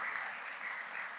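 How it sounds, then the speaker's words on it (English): Warm, steady applause fills a school board meeting hall as an audience claps for students, a dense patter of many hands with no voices over it. "Please give these youngsters one more round of applause"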